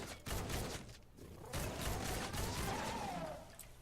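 Tiger assault rifle firing in Fortnite Save the World, with bursts of game gunfire over layered battle noise and a rising whine as a mist monster is targeted.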